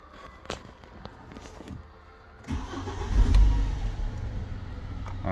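BMW E87 car engine starts up with a rising burst after some quiet clicks, then settles into a steady close idle.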